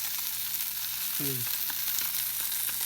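Ramen noodles fry in a pan with a steady, close sizzle and a brief squeaky chirp partway through.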